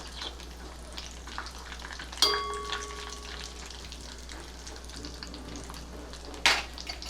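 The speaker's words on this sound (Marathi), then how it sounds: "जे मी चिरून घेतले होते आत्ता ते थोडेसे परतून घेऊया" Chopped dry fruits sautéing in ghee in a pan, a steady soft sizzle with two sharp clinks of a utensil against the pan partway through.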